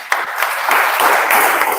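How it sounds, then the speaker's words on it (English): Audience at a communication workshop clapping in a dense, steady burst of applause lasting under two seconds, fairly close and loud, with no talk over it. "Give a round of applause, please."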